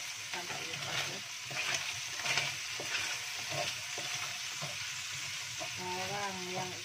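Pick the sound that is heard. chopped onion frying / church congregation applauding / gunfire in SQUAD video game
chopped onion frying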